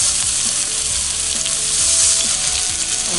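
Salmon fillet sizzles steadily in a hot cast iron skillet, a loud continuous frying hiss with small pops as the fish is turned over, with no voices.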